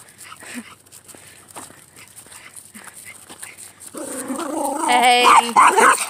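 A dog barks and yips at another dog, starting with faint scuffs and footsteps, then breaking into loud, close, excited whining barks over the last couple of seconds.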